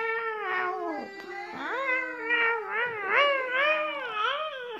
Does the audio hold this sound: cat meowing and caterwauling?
yes